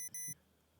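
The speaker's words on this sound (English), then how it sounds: "Beep, beep, beep." Two quick electronic alarm beeps sound close together, high and thin, then cut off into near silence.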